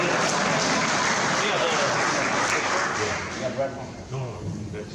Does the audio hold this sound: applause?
yes